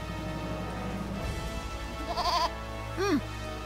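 A goat bleats in the video game Eternal Sonata, with two short wavering cries near the end over a steady game music backdrop.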